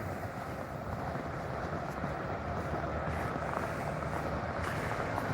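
Trains pass on Yonge Street in North York, Toronto, during a snowstorm as a broad, steady rumble and roar that holds evenly from start to finish, with no voices.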